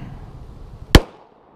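A single loud, sharp shot from a Smith & Wesson Governor revolver fired at targets, one close blast standing out over low background noise and fading quickly.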